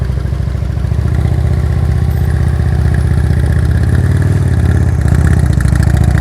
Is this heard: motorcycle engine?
yes